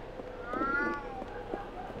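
A cat in the video game Alice: Madness Returns lets out one clear, drawn-out meow at moderate loudness over quiet game ambience.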